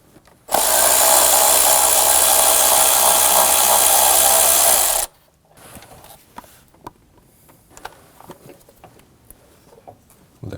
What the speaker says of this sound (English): The bolt here is a 10 millimeter.